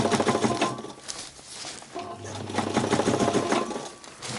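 A sewing machine stitches fabric for a tent modification, running with a fast, steady mechanical patter that briefly eases and then picks back up, close and clear.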